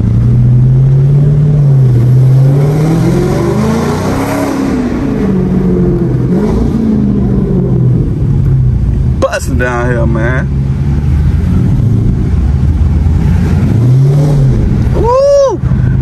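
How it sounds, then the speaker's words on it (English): A loud widebody Dodge Charger Scat Pack engine revs repeatedly in traffic, pitch rising and falling in surges, with a brief spoken remark and sharp whooshing sweeps near the end. "I'm over here revving it"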